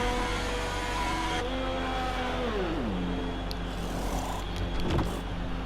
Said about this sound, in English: Cla-ita driving back to the pits with his Ferrari.